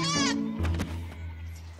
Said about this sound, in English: We want to buy a goat. We have a lot of goats.